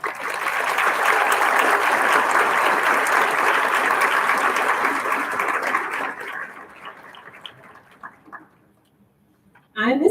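A crowd at a middle school 8th grade graduation ceremony gives a sustained, full round of applause that thins into a few scattered claps and falls quiet, before a voice begins speaking at the very end.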